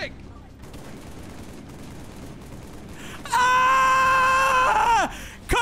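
Rapid automatic gunfire in modded Halo 3 bursts in loudly for about two seconds after a stretch of quieter game ambience, then cuts off.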